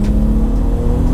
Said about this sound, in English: It's supposed to be a big estate, but it just lets you know that that engine is up front.